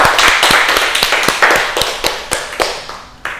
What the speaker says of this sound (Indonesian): beri tepuk tangan kepada Mas Zaan